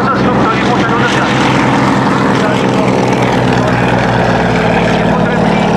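A Zlin Z-37 Cmelak propeller plane towing gliders at an air show at Dubová drones loudly and steadily overhead, a dense continuous engine and propeller roar with a voice talking under it.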